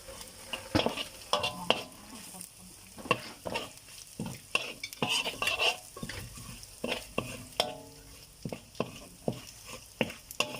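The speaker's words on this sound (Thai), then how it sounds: "เริ่มแรกครับ เราใส่พริกเข้าไปก่อน เบาไฟนิดนึงนะ มันจะฉุนไป" Chili peppers sizzling in a hot pan for Thai basil pork stir-fry, with repeated sharp scrapes and clanks of a spatula stirring over a steady frying hiss, close and fairly loud, no talking.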